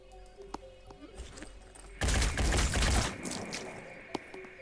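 Gunfire in the Phoenix Point tactical game: a loud dense burst of shots lasting about a second, preceded and followed by scattered sharp clicks and quieter combat noise.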